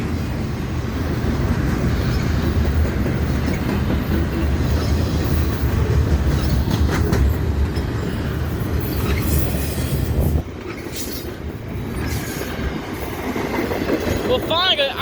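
Train passing along the railroad at Christiana Fosterville Road near Fosterville, Tennessee, a loud steady rumble with clattering wheels and squeal that drops off near the end, a voice briefly over it.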